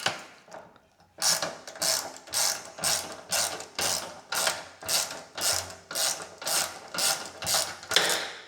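A ratchet works a 10mm bolt loose at the back of a Honda CB500X motorcycle's fuel tank, giving a close, loud, even series of about a dozen zipping clicks after a short quiet start.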